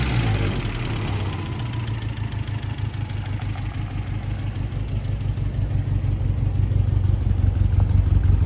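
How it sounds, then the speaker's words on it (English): A 1959 Triumph TR3A engine idles steadily and smoothly, its low throbbing exhaust note close and continuous for the whole stretch with no speech over it. "Engine runs nice and smooth,"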